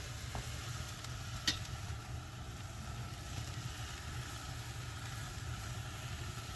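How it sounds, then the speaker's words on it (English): Tri-tip searing over a live fire, a faint, continuous hiss and crackle under a low steady rumble, with one brief sharp pop partway through. "Talking about a sear. Get a sear down there."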